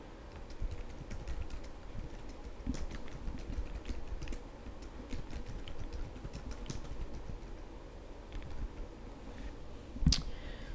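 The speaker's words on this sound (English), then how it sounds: "So I'm going to just begin typing." Fingers typing on a computer keyboard, a continuous close patter of quick plastic key clicks with a louder clack near the end, no voices.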